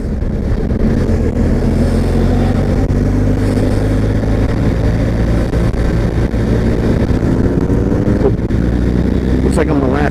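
Adventure motorcycle riding on a road, a loud continuous engine hum with heavy wind rush, while a rider talks over it throughout.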